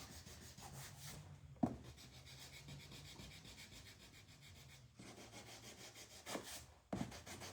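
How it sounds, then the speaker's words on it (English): A small electric sander distresses a wooden garden sign, running as a steady, close rasping hum with a few brief breaks and louder scrapes as the pad shifts across the wood. "So you can go back with your little sander and do other things."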